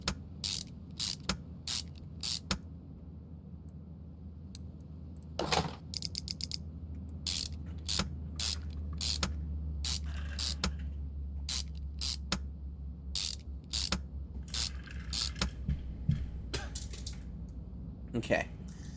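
Engine parts being screwed in during a Car Mechanic Simulator 2021 restoration of a Road Runner: a steady run of quick, sharp ratcheting clicks, close and fairly quiet, repeating in short bursts over a low background hum.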